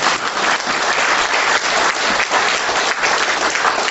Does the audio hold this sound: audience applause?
yes